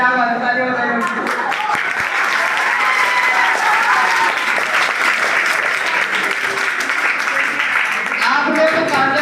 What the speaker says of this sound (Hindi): क्या बात है, तालियां बजाइए।